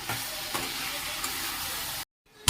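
Pumpkin halwa with sugar being stirred in a pan, a dense close sizzle with a few soft spoon strokes, cutting off abruptly near the end.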